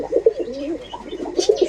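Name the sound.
racer pigeons cooing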